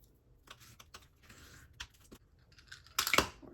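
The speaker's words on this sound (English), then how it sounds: "We're going to fold and burnish." Scored paper folded down the middle and burnished for a handmade journal, with soft scattered creases and rubs that end in a louder, dense scraping swipe near the end. Close and quiet, no talking.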